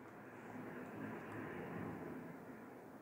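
Military aircraft on a training flight roar past low and fast, a loud, steady, broad rushing drone that holds for the whole stretch with no voices.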